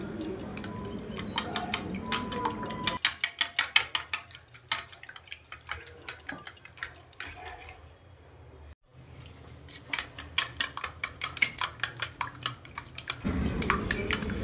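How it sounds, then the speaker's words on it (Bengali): A fork or whisk clatters fast against a bowl as eggs are beaten together with coriander paste, giving rapid irregular clicking and tapping in bursts, with a short pause partway through. "এটা আমি খুব ভালো মতন করে ফেটিয়ে নিয়েছি।"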